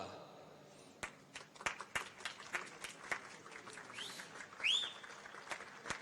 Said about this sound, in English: We welcome with your applause, please